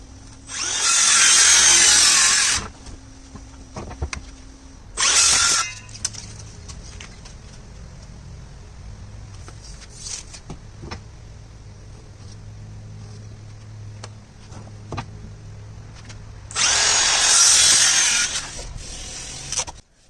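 A power saw cuts wooden planks for an outdoor planter box, with two loud whining bursts at the start and end, a short burst in between, and quieter clicks and handling noises with birds in the background.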